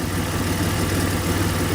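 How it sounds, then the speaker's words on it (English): A 1987 Buick Grand National engine idles steadily and close, a continuous low rumble with slight unevenness and no voices over it. "It stays idling."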